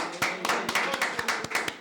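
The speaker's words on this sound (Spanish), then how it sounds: "¡Un aplauso!" Hands clap in a quick, roughly regular rhythm, about a dozen sharp distinct claps sounding fairly close and moderately loud, with a faint murmur of voices underneath.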